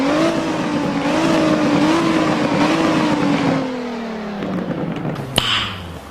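Simulated Nissan GT-R R35 with a Liberty Walk widebody kit in Roblox Driving Empire, its engine holding a steady high rev before dropping away, then a sharp thump and a brief swell near the end.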